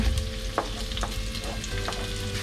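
Onions tipped into a hot pan of frying ginger and garlic for a vegetarian burger filling, a steady close sizzle with a few soft stirring knocks and no talking.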